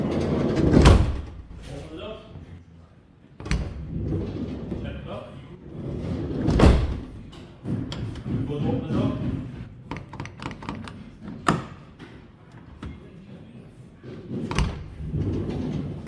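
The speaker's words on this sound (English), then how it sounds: "Shut the door." A Volkswagen T4 van door thuds shut with a heavy slam, followed by further clunks and rattles as people talk nearby.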